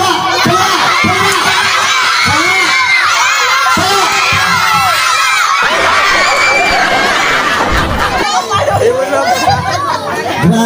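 Children shout and cheer loudly at a birthday party game, a dense, continuous crowd of excited young voices with squeals and bursts of laughter throughout.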